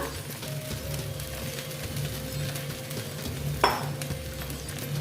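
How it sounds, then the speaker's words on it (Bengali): Soaked flattened rice (poha) tipped into a pan and stirred, a soft continuous sizzle with light scraping and one sharp clatter near the end. "চিড়েগুলো সব দিয়ে দিচ্ছি"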